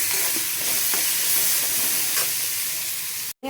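Onions frying in a pan of oil, a loud, steady close-up sizzle with faint stirring scrapes, then a brief cut-off at the end.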